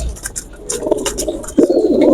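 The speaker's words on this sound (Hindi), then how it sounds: "ये प्रिंस कबूतर है" Pigeons, including a large prince-type bird, coo in soft low rounded calls close by, with light chirps and scuffling around them and a fuller burst of cooing near the end.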